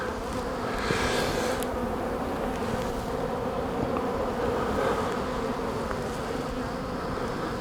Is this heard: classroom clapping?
no